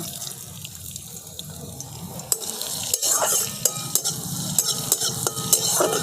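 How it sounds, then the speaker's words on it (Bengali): Chopped ginger and garlic fry in oil in a wok, with a soft steady sizzle broken by repeated sharp scrapes and clacks of stirring. "আদাটাকেও একটু নাড়াচাড়া করে নিয়েছি"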